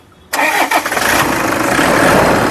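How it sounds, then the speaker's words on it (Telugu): A Toyota Innova 2.5 engine cranks and catches after a brief silence, then settles into a loud, steady idle. "ఇంజన్ ఆపోసారి మళ్ళీ ఒకసారి స్టార్ట్ చేయి"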